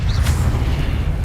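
Casting the Expelliarmus disarming spell in Hogwarts Legacy gives a short, loud, booming burst with a dense low rumble and a brief bright zap layered on top.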